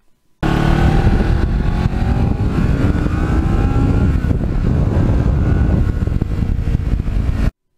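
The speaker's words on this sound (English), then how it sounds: "where this bike is really in its own element, and it's so happy on the back roads" Kawasaki Ninja motorcycle, a black bike about 15 years old, riding on back roads, its engine loud and steady throughout with rising and falling revs under strong wind rush.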